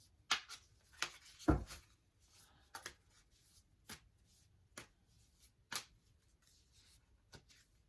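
Tarot cards are shuffled and handled in a quiet room, with soft scattered riffles, slaps and taps arriving irregularly and alone.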